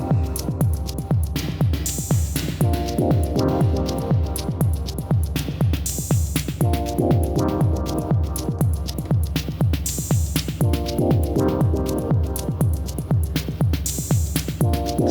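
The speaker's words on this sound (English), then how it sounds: "Let's add the reverb." A looping synth track built in Maschine with its internal synths, lo-fi, compressor and reverb effects: a pulsing bass throbs in a steady rhythm under repeating chordal stabs that ring out with a reverb tail, with no voices.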